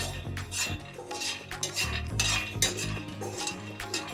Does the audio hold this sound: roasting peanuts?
yes